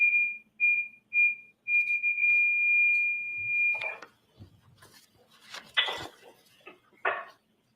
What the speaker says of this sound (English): Some beeping noises, appears to be a butt dial or accidental call.